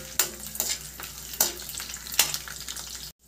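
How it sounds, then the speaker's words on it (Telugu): Almonds frying in a pan for basmati rice payasam: a steady close sizzle of nuts in hot fat, broken by four or five sharp scraping stirs at regular intervals, ending abruptly in silence. "బాదం, కొద్దిగా బాగా ఫ్రై అవ్వాలి బాదం."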